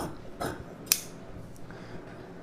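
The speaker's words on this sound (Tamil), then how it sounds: "இப்போ இந்த எக்ஸ்ட்ரா போட்டிருக்க மார்க்லேயே நம்ம கட் பண்ணிக்கலாம்." Scissors snip through blouse fabric along a marked line, giving a few crisp, close cuts spaced apart with quiet pauses between them.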